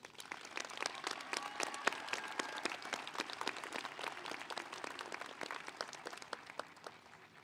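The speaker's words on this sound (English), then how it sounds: "give yourself a round of applause" Steady applause from a graduation ceremony crowd, many hands clapping at a brisk, dense rhythm for several seconds with no talking.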